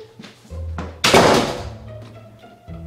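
A door swings shut with a solid thunk, preceded by a few soft knocks and shuffles, close and fairly loud, followed by a low lingering hum.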